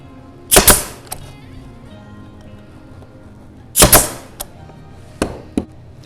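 Staples shot into wood while building a bat house: two loud, sharp double-clack staple gun strikes a few seconds apart, close by, each followed by softer clicks and taps, no speech.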